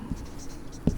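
Pen or chalk writing numbers, faint scratchy strokes with two short taps at the start and end of a quiet second, no talk over it.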